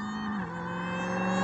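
A supercharged V8 in a Dodge Demon revving hard toward the redline, a loud, sustained, rising engine drone with strong harmonic whine, heard close and alone.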